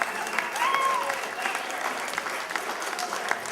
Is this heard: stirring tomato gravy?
no